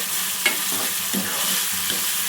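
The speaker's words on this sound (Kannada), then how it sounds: "ಏಲಕ್ಕಿ ಹಾಕುತ್ತಾ ಇದ್ದೀನಿ. ನೀಟಾಗಿ ಫ್ರೈ ಮಾಡ್ಕೊಳ್ಳಿ." Whole spices, including cardamom and cloves, sizzle and crackle in hot oil, with a couple of sharp stirring scrapes against the pan over a constant frying hiss.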